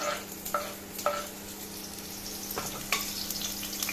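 Onion sizzles in hot oil in a pressure cooker, a steady hiss with a few sharp clicks and scrapes from stirring, close and moderately loud, no talking.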